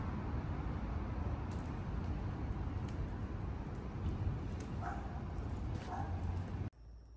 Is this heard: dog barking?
yes